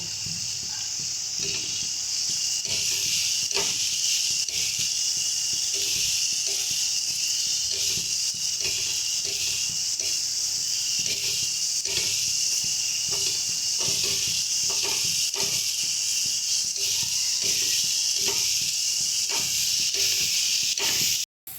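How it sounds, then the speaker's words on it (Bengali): Masala of ground spices sizzles and fries steadily in a pan while prawn curry is being made, giving a constant hiss with faint crackles and light stirring taps throughout. "এবারে কিন্তু বেশ ভালো করে মশলাটাকে কষিয়ে নেব"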